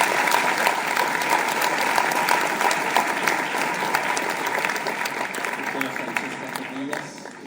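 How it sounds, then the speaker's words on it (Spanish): An audience at a psychiatry lecture on sleep disorders gives a sustained round of dense clapping that holds steady, then gradually thins toward the end. "por favor, un cálido aplauso a la doctora Francesca"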